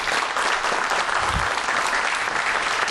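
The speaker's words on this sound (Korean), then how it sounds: "큰 박수 부탁드립니다" An audience at a studio talk show claps loudly for an arriving guest, a thick continuous burst of applause filling the space from start to finish.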